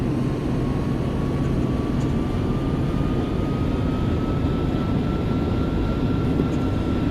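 Boeing 767 airliner engines in a flight simulator video game, a steady loud broadband roar with a faint rising whine, constant throughout without voices.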